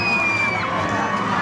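Loud crowd of people shouting and cheering, with children's voices mixed in, a dense continuous roar with no break.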